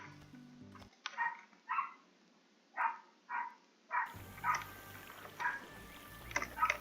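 Dog barking in the video game Caribbean Legend, a series of about eight sharp, evenly spaced barks, fairly close and clear, with game ambience rising partway through.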